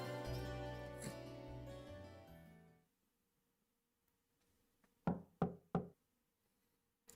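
Three sharp knocks on a door in Trails of Cold Steel, evenly spaced and close, coming after a swell of background music fades into near silence.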